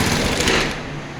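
A motorcycle engine idles steadily right after starting during an ECU and stator test, giving a close, rapid, even putter with no talk over it.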